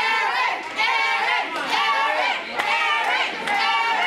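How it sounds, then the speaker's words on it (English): A wrestling crowd at a live independent pro wrestling event cheers and shouts continuously, a loud, dense roar of many voices with surging peaks throughout. "this Aaron Bradley cheering section is going nuts right now for their guy"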